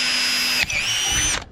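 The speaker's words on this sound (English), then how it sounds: "I'm pre-drilling with a smaller hole" A power drill bores a small pilot hole during a razor clam gun rebuild, giving a close, loud whirring burst that dips briefly before a second spin and then stops.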